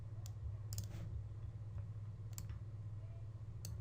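A computer mouse clicks while editing makeup onto a photo in Photoshop CS5, four sharp, quiet clicks spaced about a second apart over a low steady hum, with no speech.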